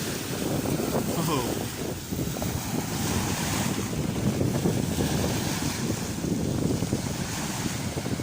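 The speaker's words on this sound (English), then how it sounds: "Oh, some big waves coming." Big ocean waves surge and break continuously in steady, loud surf, mixed with heavy wind rush on the microphone; a man gives a brief exclamation.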